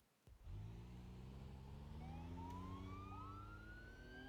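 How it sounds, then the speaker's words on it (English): Police car sirens wail continuously in the BeamNG.drive racing game, several overlapping rising and falling tones joining in at once over a steady engine rumble, loud and close with no talk. "Start your engines, activate your sirens, turn on your lights"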